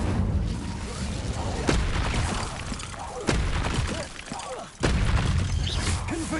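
A fire spell cast again and again in Hogwarts Legacy, heard as loud, continuous roaring blasts with booming bursts and crackling impacts that keep the whole stretch dense and noisy.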